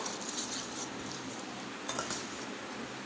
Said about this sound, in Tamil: தண்ணியை சேர்த்துட்டு கலந்து விட்டுக்கலாம்